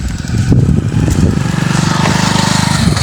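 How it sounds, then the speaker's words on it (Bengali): A motorcycle engine runs loud and close on a village road in Bangladesh at dusk, its steady throbbing putter droning throughout with a slight rise in revs. "মোটর সাইকেল আসছে"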